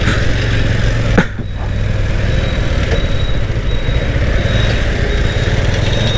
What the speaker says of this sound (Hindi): बाइक तो मैंने घुमा ली है